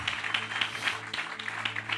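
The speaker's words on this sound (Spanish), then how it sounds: "Fuerte ese aplauso." Church congregation applauding during a service, a steady patter of hand claps at moderate distance with faint rhythmic accents, no talking over it.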